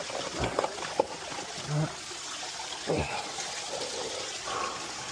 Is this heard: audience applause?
no